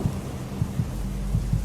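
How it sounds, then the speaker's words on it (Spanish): Heartbeat sound effect in a spooky narrated horror story, a deep muffled thumping felt as the pulse of the earth's interior, with soft low beats recurring irregularly over a steady low rumble. "en lo hondo, muy hondo por debajo de mí sonaba un latido, un ritmo"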